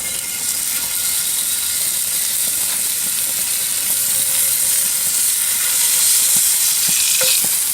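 A Costco prime tri tip steak sizzles loudly in a hot pan, a dense, steady crackle up close with a few sharp pops and scrapes, and no talking over it.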